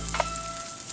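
Garlic and peppers stir-frying in oil in a pan for turmeric chicken curry, a steady close sizzle with a couple of brief clinks of the utensil early on, no voices.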